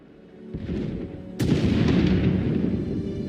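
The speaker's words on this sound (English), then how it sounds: "Sounds like the bombing's getting closer." Bombing explosions draw nearer in Star Wars: The Old Republic, with a muffled rumble first, then a sharp, louder blast whose deep roar lingers and rolls on.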